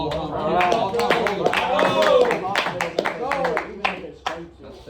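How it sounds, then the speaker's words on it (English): A group gives a round of applause for a team member at an end-of-year team meeting: a burst of sharp, overlapping claps that lasts several seconds, with voices and cheering mixed in before it thins to a few scattered claps. "Round of applause for Adam."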